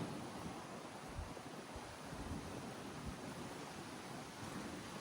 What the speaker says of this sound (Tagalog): laking alon mga kaisla